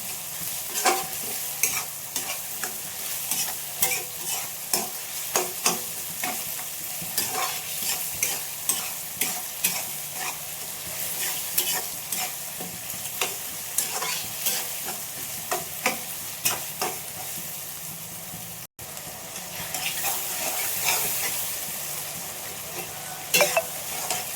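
Tomatoes stirred and cooked down in a pan with coarse salt for an egg curry, giving a steady close sizzle broken by regular scraping stirs throughout, with one brief drop near the end.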